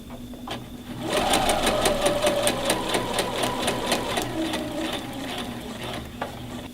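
Sewing machine running a steady regular stitch down an apron pocket, a fast even mechanical chatter that starts after a quiet second and continues close and loud until near the end.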